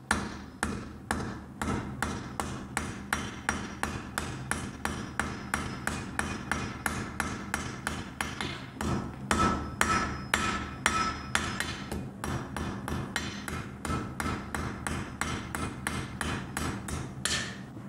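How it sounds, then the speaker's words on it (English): Steady, rhythmic hammer blows ring out on hot metal as a blacksmith forges the head of a Norse serpent pendant, dozens of sharp close strikes with brief pauses throughout. "So we will start here by forging the head."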